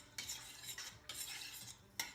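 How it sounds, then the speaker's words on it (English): Golden turmeric sipping broth, seasoned with black pepper and warming in a pot, is stirred in steady sweeping strokes, each a bright, close swish that repeats about four times with no talking. "We will stir this up."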